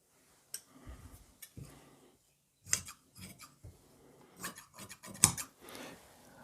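Scissors cutting fabric for a girl's dress: a series of close, crisp snips and clicks at irregular intervals, separated by brief pauses, with no talking.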